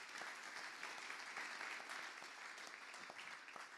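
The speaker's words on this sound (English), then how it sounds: "Another big round of applause for them." A round of applause for the hosts at a student startup challenge event, steady crowd clapping heard from a distance and fairly faint, continuing throughout without speech.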